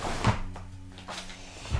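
A studio desk drawer slides open with a short wooden thump and rattle, a brief scrape following, and another small knock at the end. The sound is close and quiet, with no speech.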